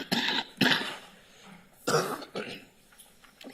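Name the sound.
cough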